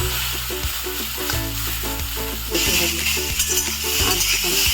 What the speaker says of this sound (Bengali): কচুরলতিটাকে ভালো করে ভাজা হবে।